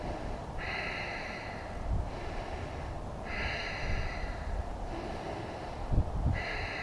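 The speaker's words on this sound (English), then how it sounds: "In the nose, out the nose." Steady nasal breathing in and out during a power yoga session with dumbbells, several slow audible breath cycles at close range over a constant background hiss, with no talking.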